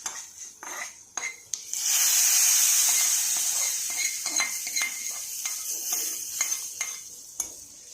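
A loud burst of sizzling hisses up as hot oil tempering is poured into brinjal gothsu, then settles into steady frying with metal spoon scrapes and clinks.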